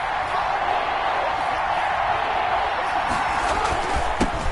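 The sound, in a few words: stadium crowd cheering in a PS4 football video game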